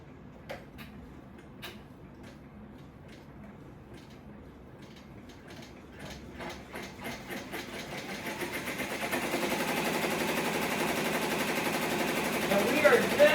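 An embroidery machine stitches a tack-down line, starting with sparse, separate needle clicks that speed up into a dense, rapid mechanical chatter and grow steadily louder.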